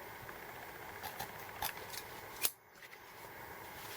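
Large fussy-cutting scissors trim paper for a tent-shaped mini album craft, giving a few quiet snips and then one sharper, closer cut against faint room hiss.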